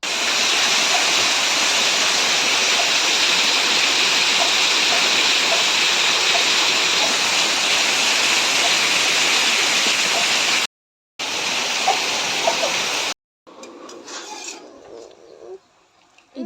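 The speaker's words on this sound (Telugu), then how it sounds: "అసలు ఫుల్ అంటే ఫుల్ వర్షం కొట్టింది" Heavy rain pours down steadily in a dense, loud hiss for about eleven seconds, cuts out briefly, returns, then gives way to quieter scattered noise near the end.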